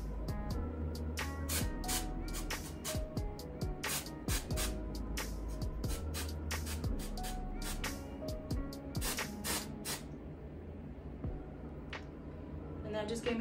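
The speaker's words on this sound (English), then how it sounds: "I'm gonna spray this on here while I hold this down." Short hissing bursts from a spray can aimed at a brown wig during installation, repeating irregularly over steady background noise, close to the listener.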